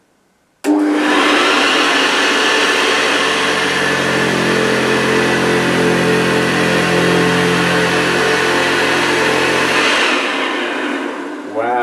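A Hoover C1300 commercial upright vacuum cleaner, run without its bag, switches on abruptly and roars loudly and steadily at close range with a whining motor hum, then winds down near the end.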